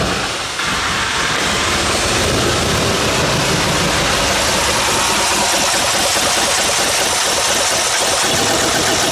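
A Mitsubishi Lancer 3-cylinder turbo engine runs steadily and loudly up close, giving a rough, continuous idle with a dense mechanical rattle and hiss throughout, no voices.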